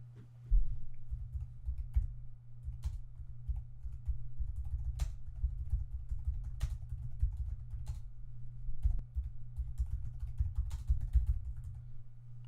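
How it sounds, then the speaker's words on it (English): Research query being typed on a computer keyboard, a steady run of close, soft key clicks over a low hum with no speech. "let's just type the research hypothesis directly into the query area"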